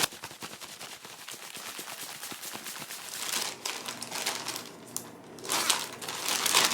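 Okra shaken inside a zipped plastic baggie of breading, a dense rapid rattling and crinkling of pieces and bag, loud and close, surging in waves with a brief pause before a final burst.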